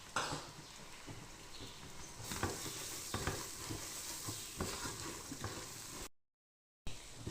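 Onions and garlic sizzle in a hot pan while being stirred, with a steady frying hiss and soft scraping strokes throughout, broken by a short silent gap near the end.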